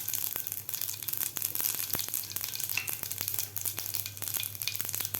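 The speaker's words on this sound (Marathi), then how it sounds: "तेल आपलं व्यवस्थित गरम झालेलं आहे. यामध्ये घालायची आपल्याला मोहरी," Mustard seeds and cumin crackle and sizzle in two spoonfuls of hot oil in a pan for raw-mango pithla, with a dense, continuous frying hiss punctuated by sharp pops of seeds throughout.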